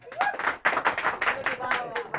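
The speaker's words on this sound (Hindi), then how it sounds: "ताली मार दो का।" Students in a Bihar class 10 history lesson clap their hands in uneven, ragged bursts, close by and fairly loud, with voices talking over and between the claps.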